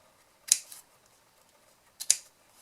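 Two sharp scissor snips cutting paper for a small handmade chocolate slider box, spaced well apart and close up in a quiet room.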